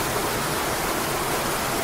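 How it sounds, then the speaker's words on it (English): A steady, dense roar of water crashing inside a video game cave, loud and unbroken with no variation across the short stretch. "I try to shout, but the sound of crashing water overpowers my voice."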